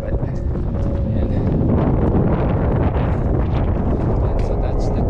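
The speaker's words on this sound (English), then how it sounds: "It's very windy right now, like super windy." Strong wind buffeting the microphone on a mountain trail near a cliff, a constant loud roar and rumble with no letup.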